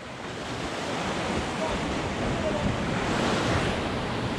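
Rough ocean waves break hard against sharp rocks at a natural rock pool, making a continuous loud roar of surf with wind noise buffeting the microphone throughout.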